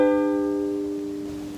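A single ukulele chord strummed once and left to ring, its bright tone sustaining and slowly fading, alone with no talking.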